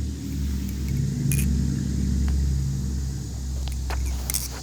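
A truck rumbles past outdoors, a deep engine drone swelling to a peak midway and then easing off as it moves away, with faint clicks and ticks on top.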